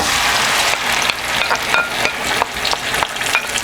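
Tomatoes frying in a pan for a simple Italian tomato sauce, a loud close sizzle with repeated stirring scrapes and soft clacks throughout.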